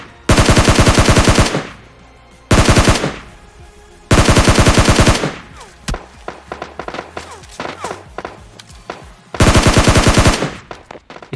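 Bursts of automatic rifle fire in PUBG Mobile Lite during a final-zone fight, loud sustained volleys of several seconds each separated by pauses, with softer scattered shots and thuds in between.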